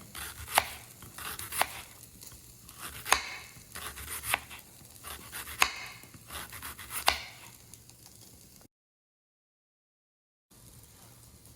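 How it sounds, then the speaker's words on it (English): A knife chops half an onion very finely on a cutting board, a quick series of sharp, regular taps close by, then a short silence before faint kitchen sound resumes. "I'm gonna go ahead and cut up half an onion, and I'm gonna cut it really as fine as possible"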